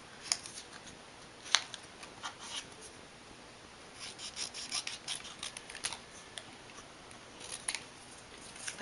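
Scissors snip through paper pieces for a spooky birthday craft, giving a run of quick, close, crisp cuts with soft rubbing of paper between them. No one speaks.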